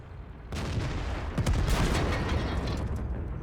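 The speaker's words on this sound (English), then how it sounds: "My artillery killed me." Artillery fire in the World of Tanks video game, a sudden loud blast starting about half a second in, followed by a rumbling barrage with several heavy impacts that continues throughout.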